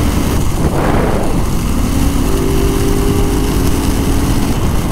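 Loud, steady engine roar from a Porsche GT3 in a race, a continuous droning blare with a brief swell early on, heard alone without speech.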